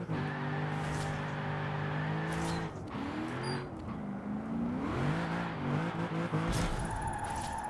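Car engine in Forza Horizon 4 held high and revving hard through a drift, pitch rising and dipping with throttle changes, loud and continuous with brief tire squeal and no voices.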